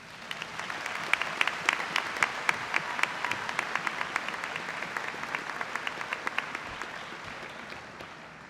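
An audience at a spring commencement ceremony claps to welcome a guest speaker, a dense, steady round of applause that holds evenly for several seconds before slowly thinning.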